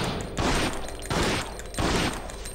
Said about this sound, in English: It's four shots.